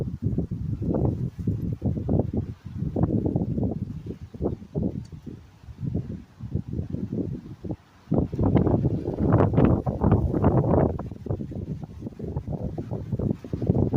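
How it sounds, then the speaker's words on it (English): Gusts of wind batter the microphone in irregular low rumbling bursts, loud and buffeting, easing briefly before surging again, with no speech. "Sorry about the wind."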